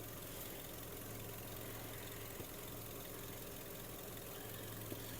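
A steady, low idle from a 2007 Volkswagen Golf Plus 1.6 MPI petrol engine runs evenly throughout, a constant rumble with a faint hum and no talking.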